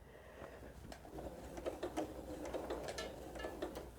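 A sewing machine runs a short back stitch while piecing a cathedral window pillow, giving a steady, close mechanical whirring with rapid repeated needle clicks and ticks for about four seconds, no voices.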